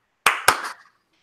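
Two sharp hand claps from one or two people, quick and close together, ending in a brief ragged patter before silence.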